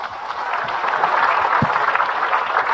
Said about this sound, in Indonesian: tepuk tangan dulu, aplaus buat semua wanita